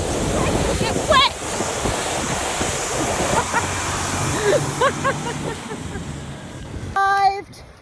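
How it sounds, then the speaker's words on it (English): Flood water surges in like a wave on a farm with cows, a loud steady rushing and splashing wash with wind noise over the microphone, while people talk and exclaim over it. "Arrived with a tidal wave."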